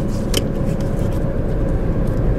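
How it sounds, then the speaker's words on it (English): A car rolls along the road with the handbrake pulled up, giving a steady close-up rumble of engine and road noise that carries no break in level. "Now I'm going to pull up on the handbrake."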